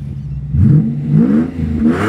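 Straight-piped Japanese V12 car engine revving up and down in short blips, raw and close, over about two seconds with no talk.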